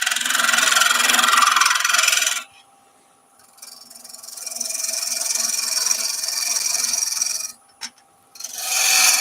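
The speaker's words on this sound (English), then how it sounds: "So this is the gouge that I've just been using, and it's fairly blunt." A fairly blunt woodturning gouge cuts an epoxy resin vase on a lathe, giving a harsh rasping scrape that drops out, returns as a quieter hiss, pauses briefly, then resumes loudly.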